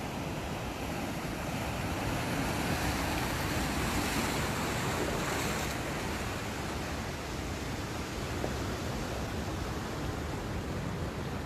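Morning surf at Karang Hawu beach, a loud, broad, unbroken wash of breaking ocean waves with wind rumble and no pauses, filling the whole stretch.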